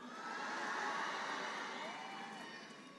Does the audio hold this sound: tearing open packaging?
no